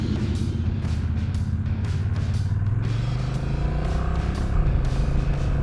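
Honda Rebel 1100 DCT motorcycle under way, its engine humming in a steady loud drone that climbs in pitch and then drops as a gear changes, heard close over wind rush with no talk.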